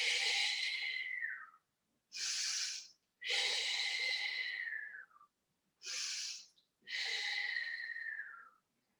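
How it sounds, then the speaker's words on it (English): Deep breathing during a Pilates stretch in an osteoporosis class, heard as five long, close breaths with short pauses between them, each one an airy rushing sound and no talking. "Take 2 or 3 deep breaths in."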